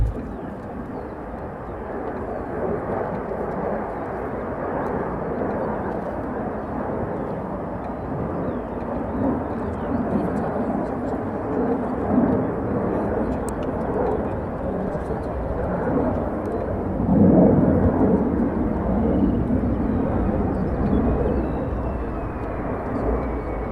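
A fighter jet on a low approach at RAF Lakenheath roars steadily from a distance, its broad engine rumble swelling slightly toward the end as it passes.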